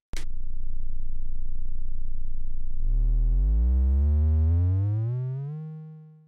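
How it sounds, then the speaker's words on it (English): A synthesizer oscillator holds a steady low triangle-wave tone for about three seconds, then a brighter, richer tone rises in pitch and sustains before fading out. "I'll start from a triangle wave."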